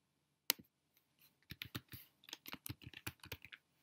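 Quiet, close typing on a computer keyboard as a name is entered: one sharp click, a short pause, then a quick irregular run of keystrokes.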